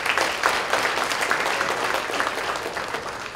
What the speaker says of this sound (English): let's give this group another round of applause